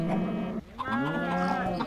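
A calf in the video game Minecraft moos twice in a row, the lowing calls loud and close, with a brief pause between them and no talk over them.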